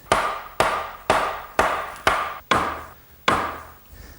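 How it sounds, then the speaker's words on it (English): A mallet drives wooden pieces of an English garden bench into their mortises with seven sharp, evenly spaced knocks about half a second apart, each ringing briefly before fading, close and loud with no talk. "drive them down with my mallet."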